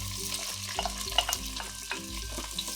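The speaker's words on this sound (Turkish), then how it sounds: "Ve patlıcan ve biberlerimi biraz böyle kızartacağım." Eggplant and peppers sizzle in hot oil, with scraping and stirring clatter from a utensil in the pan, fairly close.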